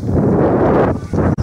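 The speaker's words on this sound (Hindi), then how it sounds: "देख सकते हैं हवा चलने लगी है," Strong gusts of wind sweep past ahead of a rainstorm in a village, buffeting the microphone with a steady loud roar that briefly drops out near the end.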